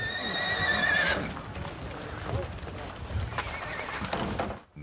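Icelandic horses neigh loudly at the start, a clear whinny followed by the shuffle and clop of hooves and general stable or valley movement nearby, with no talking.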